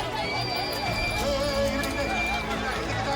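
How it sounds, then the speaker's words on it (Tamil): Horses racing at a crowded horse race event in Karur, Tamil Nadu, with neighing and hoof noise mixed into a dense, loud crowd and continuous talk around them. "குதிரைங்க போய்க்கும்."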